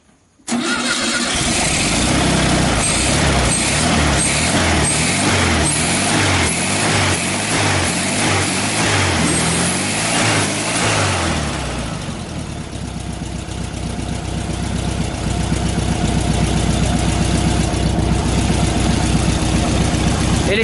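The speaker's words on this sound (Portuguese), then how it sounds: "Mas agora é só a gente dar a partida. Se a gente fez a nossa lição de casa, ele vai funcionar." A 1970 Volkswagen Fusca with a variable venturi carburettor cranks and fires up, then settles into a steady, loud idle while still cold, heard up close and running on alone for about twenty seconds.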